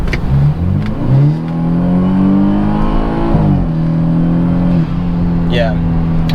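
A BMW F33 engine with an N20/N26 and aftermarket charge pipe revs hard and climbs in pitch as it accelerates, loud and close, dipping briefly before pulling again.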